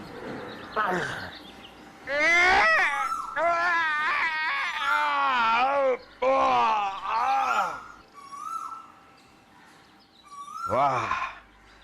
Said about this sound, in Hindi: ये हमारे महल में से रोने की आवाज।